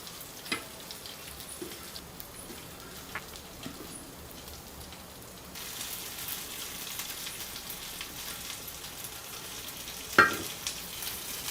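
Surmai fish coated in rava fries in oil on a tava, Kokan style, giving a soft continuous sizzle like light rain with a few faint clicks and one sharper clatter near the end.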